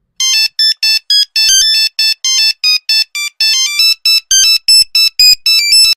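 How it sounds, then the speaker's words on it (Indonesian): A loud electronic mobile phone ringtone plays alone, a rapid, repeating pattern of bright melodic beeps in short bursts that continues throughout. "Namun tiba-tiba telepon genggamnya berdering."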